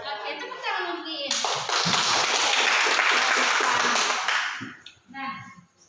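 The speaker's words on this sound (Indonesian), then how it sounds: "tepuk tangan untuk Iin" Classmates give a student a round of applause in a school lesson: a dense burst of many hands clapping for about three seconds, with speech just before and after it.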